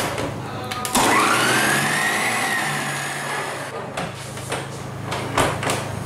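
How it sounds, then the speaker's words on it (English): A close electric mixer on low speed whirs through cola cake batter for about three seconds, its motor pitch rising slightly as it settles. Clatter and handling noises follow after it stops. "I'm going to add this in 2 batches and on low speed mix that in"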